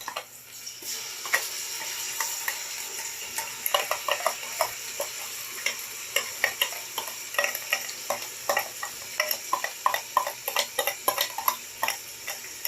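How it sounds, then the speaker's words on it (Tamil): Onions frying with ginger paste in a pan for kuska, a steady sizzle punctuated by repeated sharp scraping and stirring clinks of a spoon against the pan, close and moderately loud, with no voices. "இஞ்சி பேஸ்ட் அரைச்சி வச்சதை இதில் போட்டு"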